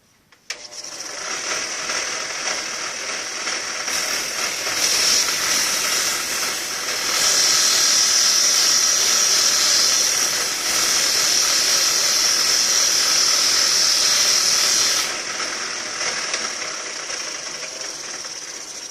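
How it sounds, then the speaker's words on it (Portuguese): An MDF stick is sanded down to a 2 mm thickness for a miniature truck body, with a steady, loud, continuous whir of a machine running throughout. "Eu vou mostrar como é fácil de lixar esse palito para ficar paralelo com 2 milímetros."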